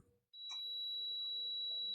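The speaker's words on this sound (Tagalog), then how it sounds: "Kailangan may marinig tayo na buzzer." A clamp meter set to continuity mode while testing a vintage rice cooker with no power, giving a single steady high-pitched continuous beep that starts abruptly and holds, with a faint tap near its start.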